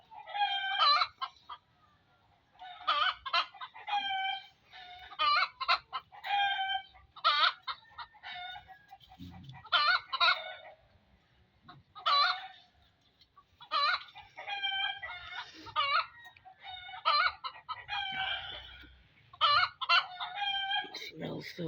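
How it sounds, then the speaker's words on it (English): An agitated chicken clucks and squawks in loud, rapid bursts, repeated over and over with short gaps, close by and mostly alone apart from faint background rustling. "Chicken is mad, bro."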